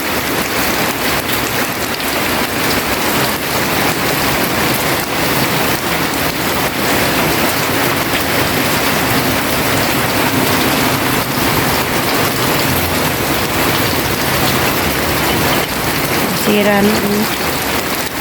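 Steady, heavy rain pours down continuously around a house and garden, a dense close hiss of drops hitting surfaces, with a faint low rumble in the background.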